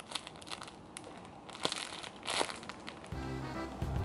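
A squishy toy package is unwrapped close up, with continuous crinkling and rustling of plastic wrapping, occasional sharper crackles and tearing, moderately quiet and without talk.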